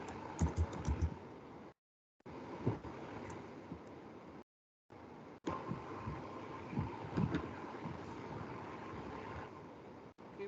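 Continuous computer keyboard typing with dense clicks of keys, broken by two brief silent gaps, recorded close and moderately loud with steady background noise.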